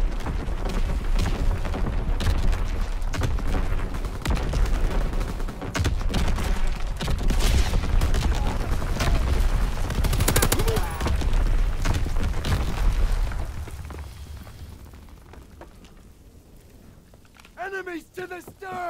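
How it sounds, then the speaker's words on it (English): Primary battery guns on a warship in a naval game fire in dense, rapid heavy booms and blasts that fill most of the stretch, then fade into quieter rumble as a voice talks near the end. "Firing primary battery."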